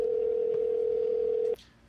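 A steady telephone dial tone hums loud and alone for about a second and a half, then cuts off abruptly as a call is placed.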